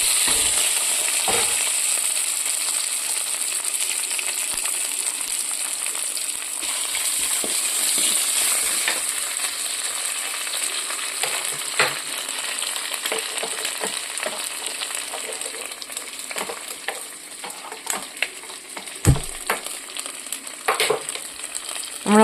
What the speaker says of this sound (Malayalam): ഇഞ്ചി, വെളുത്തുള്ളി, കരിയാപ്പില, കുടംപുളി നന്നായിട്ടൊന്ന് വഴന്ന് വരട്ടെ.